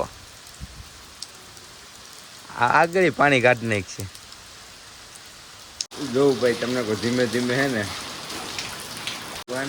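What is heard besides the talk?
rain falling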